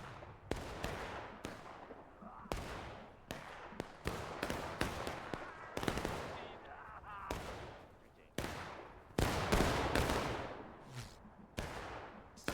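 Gunfire in War of Rights, an American Civil War shooter game: a dense, irregular series of sharp shots and volleys, some near and loud and others farther off, across the whole stretch.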